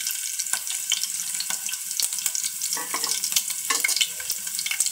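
Garlic frying in a pan gives a steady, close sizzle, with sharp scrapes and taps from stirring breaking through at irregular moments. Nobody speaks.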